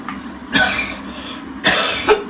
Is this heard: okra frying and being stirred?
no